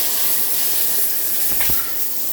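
A cobbe H1A2G9ES1 shower head with nine spray settings sprays water in a steady, broad hiss, close and continuous, with a brief softer whoosh midway.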